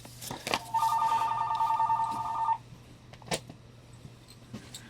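A telephone rings with one steady electronic trill lasting about two seconds inside a comic shop, fairly close, followed by quiet room noise and a few soft clicks.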